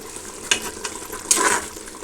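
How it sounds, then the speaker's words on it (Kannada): Tomato masala for tomato bath fries in a pan with a soft steady sizzle, broken by a few brief stirring scrapes and clinks of a spoon. "ಇದು ಹಸಿ ವಾಸನೆ ಹೋಗೋವರೆಗೂ ಹಾಗೆ ಫ್ರೈ ಮಾಡಬೇಕು"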